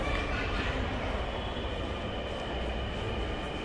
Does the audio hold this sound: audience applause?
no